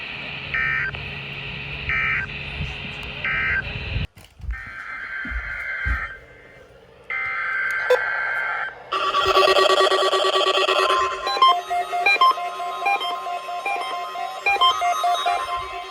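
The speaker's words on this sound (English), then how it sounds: "this has been a test of the no-weather radio warning alarm and EAS signal" A weather radio warning alarm sounds, starting with rapid bursts of digital data tones, followed by a long, steady two-tone attention alarm and further electronic tone patterns, loud and continuous with no speech.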